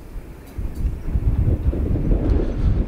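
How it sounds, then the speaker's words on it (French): Strong storm wind gusts and roars at Comines-Warneton, a steady low rumble that swells after the first half second and keeps buffeting the microphone throughout. "Le vent souffle fort."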